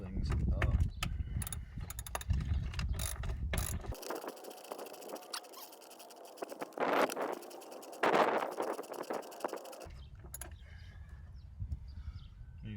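A hand ratchet loosens a bolt with mechanical clicking, heard across the clip among other workshop noises and a break in the sound partway through.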